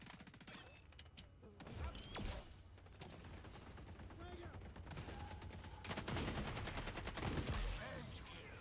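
Rapid gunfire in the video game XDefiant, with sustained bursts of shots and mechanical clatter, dense and fairly loud, with a player's voice now and then over the action.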